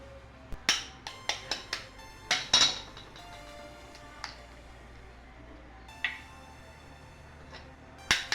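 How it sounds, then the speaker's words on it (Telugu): Three eggs are cracked into a bowl for cake batter, heard as a run of crisp, close taps and clicks against the bowl rim, clustered early and then spaced out, fairly quiet over a low background hum. "ఇప్పుడు బౌల్లోకి 3 ఎగ్స్ స్మాష్ చేసుకుందాం"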